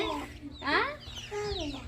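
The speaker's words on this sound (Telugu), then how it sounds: "కోడి పిల్ల" A hen with her chicks on a home farm clucks several times up close, with rising and falling calls coming in a few bursts and soft voices murmuring in the background.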